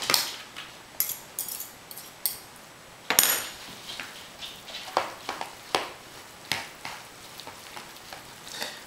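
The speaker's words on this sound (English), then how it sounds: "And then you're just going to mix all this together." Pulled pork being stirred together with barbecue sauce in a bowl or pan, giving a series of close wet scraping and clinking utensil strokes in an irregular rhythm, with no talking.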